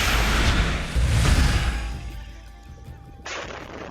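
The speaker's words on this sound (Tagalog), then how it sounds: "Sugatan ang mag-ama matapos na sumabog ang mga biniling paputok sa Santa Barbara, Pangasinan." Purchased firecrackers exploding at a shop in Santa Barbara, Pangasinan, recorded on CCTV: a loud, broad blast with rumbling debris and crackle that fades over a few seconds, then a fresh burst of hiss near the end.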